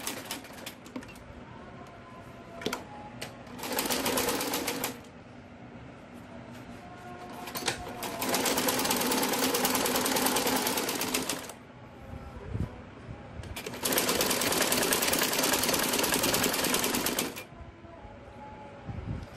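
A sewing machine stitches a salwar waistband in several separate bursts of rapid mechanical running, each a few seconds long, separated by quieter pauses, with little talk.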